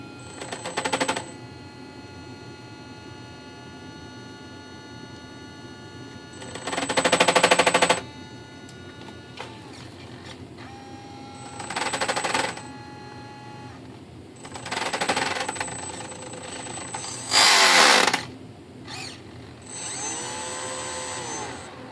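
The small electric motor of an Arcus M model glider's retractable motor system whirs in several short bursts separated by quiet gaps, close by and fairly loud, each spin-up lasting about a second.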